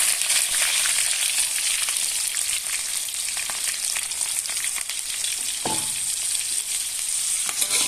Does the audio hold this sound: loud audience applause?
no